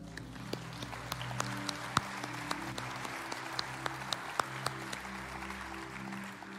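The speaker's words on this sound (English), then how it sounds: "Let's give them a hand clap." Church congregation applauding people newly welcomed into the family, a steady wash of many hands clapping at moderate volume, fairly close, with no speech over it.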